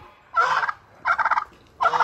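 A male turkey gobbles three times in quick bursts, loud and close, each call a rapid rattling warble separated by short pauses.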